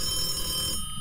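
A telephone rings in a farmhouse in the Phasmophobia video game, a steady electronic ringing tone heard fairly clearly for most of the moment before cutting off abruptly near the end.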